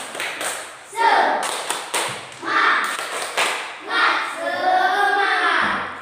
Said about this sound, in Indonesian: Jadi tepuk semangat sekali lagi.